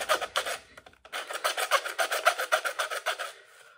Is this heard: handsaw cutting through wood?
yes